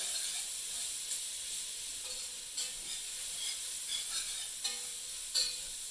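Vegetables sizzle in butter and flour in a pot for a shrimp étouffée, a steady close hiss with scattered stirring clicks and scrapes throughout.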